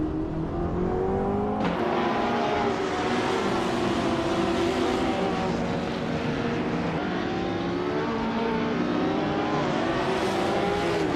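Race car engines roar continuously in a racing video game, several overlapping revving tones rising and falling as cars overtake, loud and close with a sharp shift near the start.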